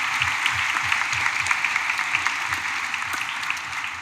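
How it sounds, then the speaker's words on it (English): A graduation ceremony crowd applauds the speakers, a steady, sustained wash of many hands clapping at moderate distance, holding evenly throughout without voices breaking through. "let's have another round of applause for all the great speakers so far"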